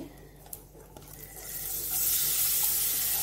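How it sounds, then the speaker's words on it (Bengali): Grated papaya drops into a hot pan already holding bay leaf and cardamom for papaya halua, quiet at first, then a broad sizzle swells and holds steady, close and with no talk. "এবার গ্রেট করা পেঁপে দিচ্ছি।"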